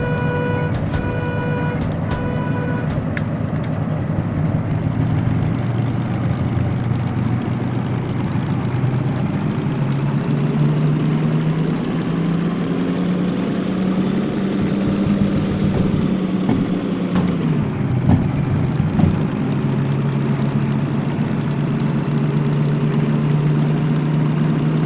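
A diesel locomotive in Derail Valley, the DM2N-670, running as a steady heavy engine drone with a droning mechanical hum. Its pitch rises and falls as the engine revs while reversing, and a few clunks of control changes sound near the end.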